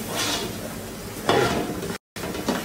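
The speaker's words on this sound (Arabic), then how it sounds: "سويت حمر البصل، حمر البصل، حمر البصل" Onions frying in a pot while being stirred, a steady hiss of sizzling oil with a louder scraping stir partway through, alone with no talk.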